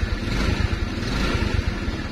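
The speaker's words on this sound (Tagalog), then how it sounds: "So bali maandar na po yung motor." Rusi Passion 125 motorcycle engine idling steadily after being started, a continuous low rumble with slight pulsing, close by and alone with no voices.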